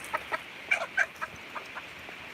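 Chickens cluck in short, separate bursts inside a homestead coop, several birds calling near and fairly loud, with quiet pauses between calls.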